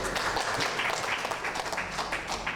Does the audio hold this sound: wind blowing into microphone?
no